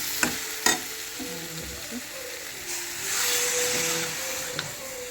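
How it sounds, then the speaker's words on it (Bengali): Potato and pumpkin curry fries in a pan and gets stirred. A spoon scrapes and taps against the pan in a few sharp knocks over a constant close sizzle, with faint background hum. "তরকারিটা আমার পুরো কষানো হয়ে গেছে।"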